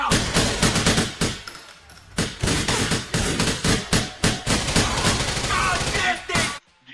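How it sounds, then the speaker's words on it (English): Rapid automatic gunfire in GTA IV echoing off a steel ceiling, dense bursts of loud cracks with short gaps and ringing reverberation, ending abruptly. "there's a sound of the gun that is reverberating off the steel in the ceiling"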